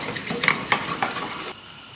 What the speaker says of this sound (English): Now if I give it a stir, that colour will come in to the centre.